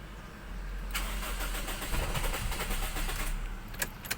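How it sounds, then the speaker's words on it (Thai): A Toyota AE111 with an automatic gearbox and petrol engine, long parked, cranks and fires up nearby, a steady churning crank that catches and runs rough before settling, with a few faint clicks at the end. "สตาร์ทนะครับ เป็นเกียร์ออโต้น้ำมันล้วนครับคันนี้"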